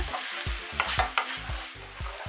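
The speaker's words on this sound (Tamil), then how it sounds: "இப்போ வந்து நல்லா கிளறி விட்டுக்கோங்க" Aviyal, a mixed vegetable curry with curry leaves, being stirred in a pan: a run of close scraping, clattering strokes in an uneven rhythm over a soft sizzle, with no talking.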